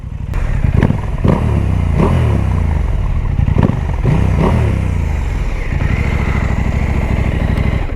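A Husqvarna Norden 901 motorcycle engine idles loud and close, its throttle blipped in several sharp revs with a rough, lumpy rhythm between bursts.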